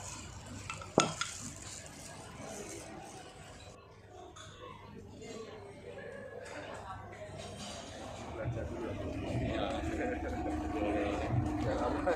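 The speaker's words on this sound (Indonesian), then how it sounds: "Lalu dia goreng dalam pancinya penuh dengan minyak dan buka-buka terus itu." Sticky rice cakes fry in a pan full of oil at a Mekong Delta market, giving a steady, moderate sizzle. It sits under people's chatter and the clatter of utensils, with a sharp metallic knock near the start.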